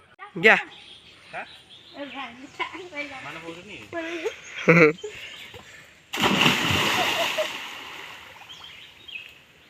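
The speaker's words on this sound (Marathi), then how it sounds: "तर आता आम्ही या निळ्याशार पाण्यात पोहतोय" People swimming in clear blue lake water: voices chatter for several seconds, then a sudden loud splash gives way to sustained, close churning and splashing water.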